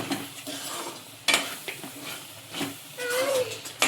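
Masala roasts in oil in a pan with a soft, crackling sizzle, broken by a spoon scraping and clinking against the metal.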